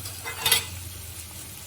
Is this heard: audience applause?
no